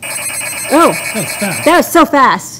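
A telephone rings in a studio with a faint repeating electronic trill, heard mostly under people talking excitedly over it.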